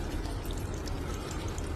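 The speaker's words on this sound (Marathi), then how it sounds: "1 ग्लास पाणी घाला" A glass of water is poured into a cooking pot holding tomato, garlic, chilli and peanut chutney, a short, steady splashing gush that lasts under two seconds, close and alone.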